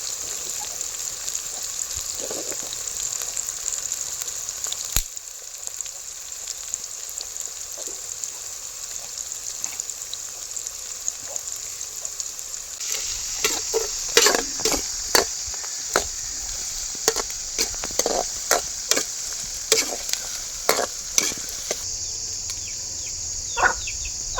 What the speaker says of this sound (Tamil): வெங்காயம் பொன்னிறமாக வதங்கிடுச்சு